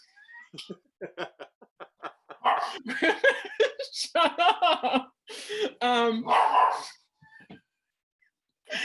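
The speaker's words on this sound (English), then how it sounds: "Can you hear my dog barking?" A dog barks repeatedly at close range in short bursts, with a person speaking over and between the barks.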